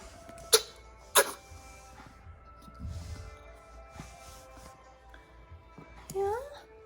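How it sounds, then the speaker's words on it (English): A sick dog coughing and gagging at a vet, two sharp hacking coughs followed by softer snorting and throaty sounds, close and fairly quiet. "Are you coughing, baby?"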